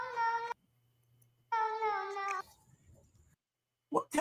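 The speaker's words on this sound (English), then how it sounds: "What kind of damn cat is that?" A cat meows loudly and close twice, each call drawn out and harmonic with a pause between, followed near the end by a short rough burst of sound.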